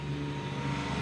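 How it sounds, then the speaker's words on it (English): An airplane passes overhead during a live sports broadcast, a steady low engine drone holding at a constant, fairly distant level throughout with no talk. "and of course there's an airplane."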